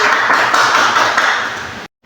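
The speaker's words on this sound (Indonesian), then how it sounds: "berikan tepuk tangan untuk perwakilan dari kelompok ganjil" A classroom audience claps for the odd-numbered group's representative in a dense, loud burst of applause that runs for nearly two seconds and then cuts off abruptly.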